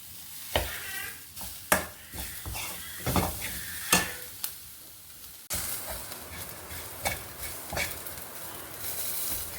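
A garlic and dal powder mixture fries in a pan under a low hiss, broken by repeated scraping stirs at an irregular pace.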